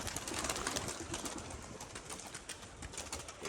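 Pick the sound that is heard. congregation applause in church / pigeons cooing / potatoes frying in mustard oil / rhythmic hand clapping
pigeons cooing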